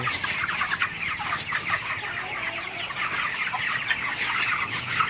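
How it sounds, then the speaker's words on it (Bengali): Broiler chickens in a chicken house in the evening keep up a dense, continuous chorus of clucking and chattering, close and fairly loud, with no talk. "মুরগির ঘরে আসলাম মুরগি তাড়ানোর জন্য।"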